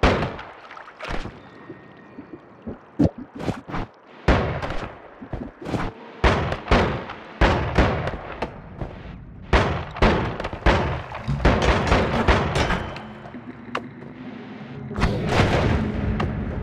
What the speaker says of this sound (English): Now I have a shotgun.